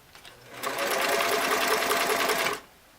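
A restored Singer Model 337 sewing machine runs a row of zigzag stitches at stitch length 8, starting with a soft click, then a rapid, even whirring hum for about two seconds before stopping abruptly.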